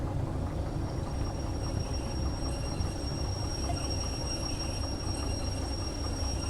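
An eight-car freight train braking to a stop in the railway simulator Derail Valley: a steady low rumble of rolling wagons with faint, thin high-pitched wheel squeal running through it.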